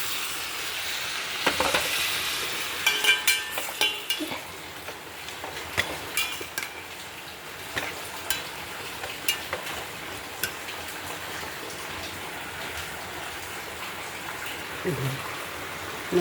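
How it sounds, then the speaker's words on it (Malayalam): Chicken pieces bubbling and sizzling in a pan while a spoon scrapes and stirs in irregular taps and clinks, with a continuous frying hiss underneath and occasional talk. "എന്നാൽ ചിക്കൻ്റെ തിളക്കുന്നുണ്ട്"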